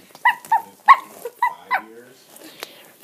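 Dogs in a Mario and Yoshi adventure video game yip and bark in a quick run of short, close calls, with a few softer whimpers near the end.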